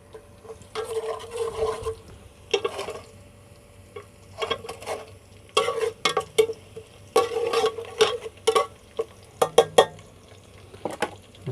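Chopped garlic hitting hot oil in a pot for chicken pulao, heard as uneven bursts of sizzling and stirring with short clattering knocks in between, close and fairly loud over a low background hum.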